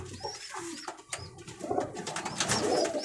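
Domestic pigeons coo softly in low, throaty bursts, several birds close by, with rustling and light scratching around them.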